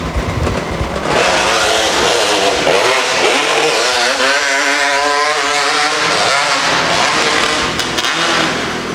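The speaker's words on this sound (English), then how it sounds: "Motorcycle with 2 engines in it." Twin-engine motorcycle racing up a hillclimb course at a motorcycle club event, a loud, close, sustained engine roar that rises in pitch as it accelerates, then holds and fades slightly near the end.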